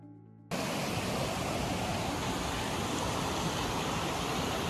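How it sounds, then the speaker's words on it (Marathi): Steady, loud roar of rushing water near Devkund waterfall at Bhira, starting abruptly after a brief quieter moment and continuing as broadband, unbroken noise with no voices. "तर तुम्हाला पाण्याचा आवाज येतच असेल थोडाच दूर."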